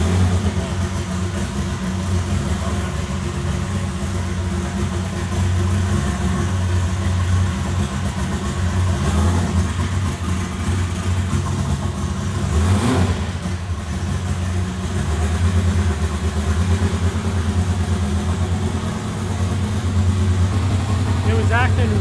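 A 1988 Nissan 300ZX Turbo idling on a dyno while running lean, a steady, slightly uneven engine rumble that stays close and loud throughout, with a brief swell near the middle and people talking over it.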